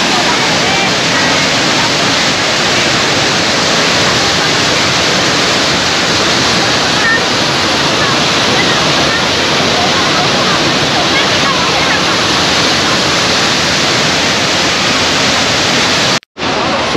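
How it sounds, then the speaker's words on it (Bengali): The Gundicha Ghagi waterfall in Keonjhar, Odisha, where water pours down from four separate places. Its roar is loud, dense and steady, running alone throughout with no voices. "এই ওয়াটারফলসটা একটু অন্য রকমের, মানে একটা, দুটো, তিনটে, চারটে জায়গা থেকে জলটা পড়ছে।"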